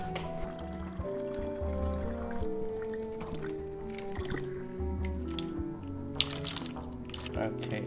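Water trickles and drips while water bottles are filled, soft liquid splashes and pours, quiet and close, with a steady hum and faint tonal sounds in the background.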